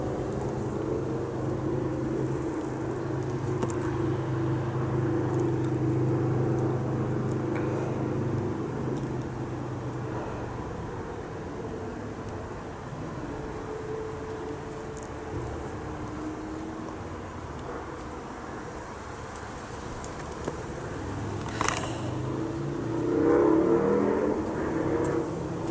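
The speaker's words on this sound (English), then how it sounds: "Sound of that bike is magnificent." A motorcycle engine runs steadily at close range, its low rumble holding for most of the stretch before a short rev swells near the end; no voices.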